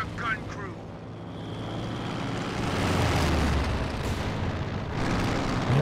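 Explosions and bombardment in a Company of Heroes 2 winter 3v3 battle, a dense continuous rumble of blasts and low booms swelling over several seconds, with a voice talking over the battle noise.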